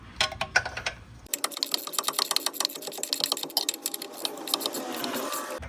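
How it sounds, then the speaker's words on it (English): A wrench tightens the lower ball joint nut on a Hyundai Santa Fe, giving fast, steady ratcheting clicks that run continuously and close by after a brief start, with no talk over them. "we just hold on the other side with a box and wrench, and we'll send this nut home"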